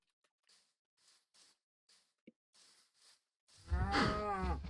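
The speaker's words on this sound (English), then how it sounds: "Okay, so there's some cows." Minecraft cows mooing in the game: a single loud, low, drawn-out moo rising near the end, after a run of soft, evenly spaced clicks and taps.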